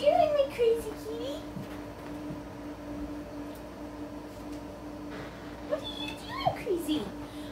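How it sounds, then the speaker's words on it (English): A pet cat meows a few times indoors, once at the start and again near the end, amid a faint steady hum, with a person talking nearby. "What are you doing, my crazy kitty?"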